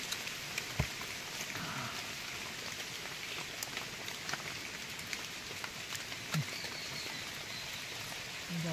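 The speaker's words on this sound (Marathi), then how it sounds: "पाऊस पण खूप आहे," Heavy outdoor rain in the Konkan countryside, a steady even hiss with scattered sharp drip clicks and a few faint bird notes, fairly quiet and without speech.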